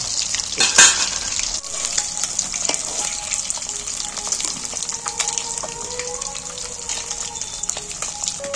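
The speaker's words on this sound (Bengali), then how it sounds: "মাছের আওয়াজটাও কমে গেছে আর মাছ একদম মচমচে করে মাছ ভাজা হয়ে গেছে" Small frozen mola fish fry crispy in hot oil, producing a loud, continuous crackling sizzle with a sharp clatter early on, then an even bubbling hiss throughout.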